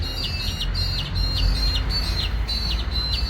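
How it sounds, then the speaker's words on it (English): Several yellow-tailed black cockatoos call from nearby backyard trees in a rural town, repeated high wavering cries in quick succession over a low outdoor rumble, with no talking. "Mad black cockatoo, yellowtail, amazing birds."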